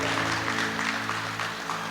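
A church congregation gives steady applause during a sermon on Psalm 20, dense clapping at moderate level over a low sustained hum, lasting about two seconds.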